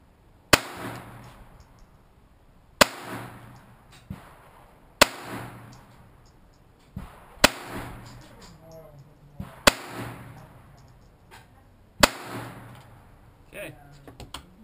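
Live pistol fire rings out as sharp, loud single shots spaced a second or two apart, each crack followed by a short decaying echo, roughly a dozen reports in all.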